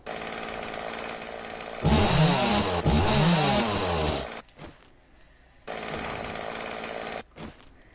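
Chainsaw in the video game 7 Days to Die roars loudly in two bursts, the first harsh and revving, then cuts out and idles in short stops and starts, with no talk.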